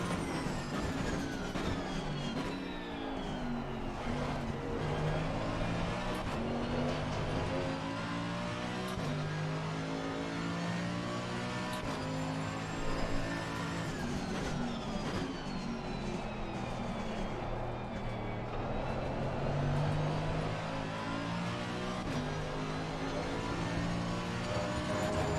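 A race car engine drives continuously in Assetto Corsa Competizione, the motor revving and shifting with rising and falling pitch over a steady loud roar for the whole stretch.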